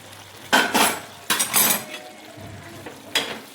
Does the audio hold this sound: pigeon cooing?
no